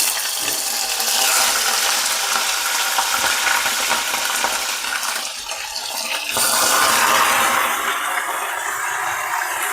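Washed mutton tipped into hot spices and bay leaf for Hyderabadi haleem, a loud rushing sizzle that dips briefly midway and surges again, steady and close without voices.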